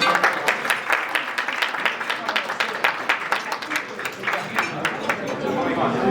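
Guests at a Hankuk University of Foreign Studies rowing team 60th anniversary ceremony clap in a scattered, moderate round of applause, individual claps distinct, with crowd chatter underneath.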